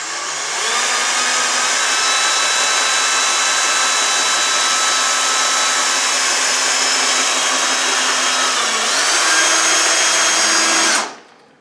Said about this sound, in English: You're going to drill a hole through it.